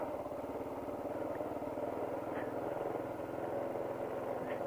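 A Kawasaki KLR 650 adventure motorcycle idles nearby at a hidden quarry, its low single-cylinder putter steady and even throughout, with a faint voice mixed in.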